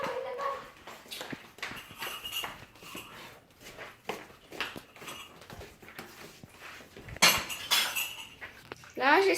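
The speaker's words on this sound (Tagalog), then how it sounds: "Now she's gonna clean the dirty dishes." Dirty dishes and plates being washed, with irregular clinks and clatters of crockery and cutlery, a louder rattle near the end, and a voice and other talk mixed in.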